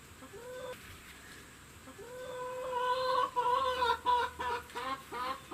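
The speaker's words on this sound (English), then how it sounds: "There's another chook." Backyard chickens cluck and call softly nearby, a series of short rising clucks and drawn-out notes at modest volume.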